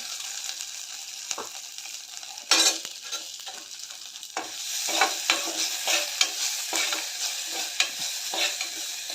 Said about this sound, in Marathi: तांदूळ भिजत घालून मिक्सरला बारीक करून घेतलेलं आहे ते भाजून घेऊया तुपामध्ये